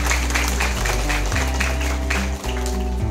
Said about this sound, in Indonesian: Boleh kita beri tepuk tangan yang meriah untuk pejabat kita